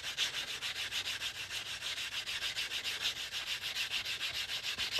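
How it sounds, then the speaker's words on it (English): Steady, rhythmic sanding strokes on the cut edge of a ring made from a quarter, a fast back-and-forth rasp close to the microphone, continuous and fairly quiet. "So what I'm doing right now is I'm sanding this cut edge."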